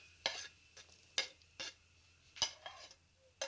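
Garlic and green chillies pounded on a traditional grinding stone for chutney, a handful of sharp, separate knocks at an uneven pace, close but quiet.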